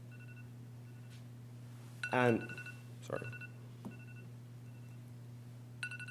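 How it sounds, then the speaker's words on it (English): A phone alarm goes off in a lecture hall during a medical talk on pancreatic cancer screening, sounding as a few short, thin electronic beeps over a steady hum, while the lecturer briefly speaks. "My own phone telling me to wrap it up."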